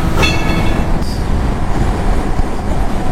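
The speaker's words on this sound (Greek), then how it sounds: "Το τσουφ τσουφ, το τρένο." A train rumbles past loudly and close by on the way from Elefsina to Loutraki, with a steady heavy roar, rail clatter and a brief high wheel squeal near the start.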